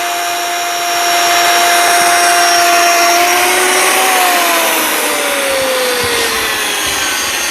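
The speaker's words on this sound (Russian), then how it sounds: "На ваших глазах делают технологическое отверстие под нагеля." Power drill boring a dowel hole through a squared-timber beam of a log house frame, a steady loud whine with pitch sliding down as the bit loads up, continuous throughout.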